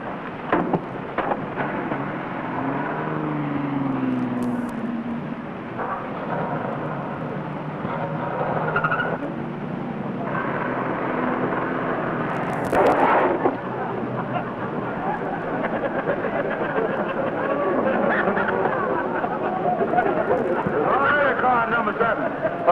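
A car backs up into a parking stall in an old-time radio comedy garage scene, with a steady engine rumble running throughout and a brief louder surge partway through.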